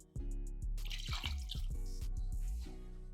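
Water pours and drips into a bowl of brownie batter in a quick burst, with gurgling drops, against a low steady hum.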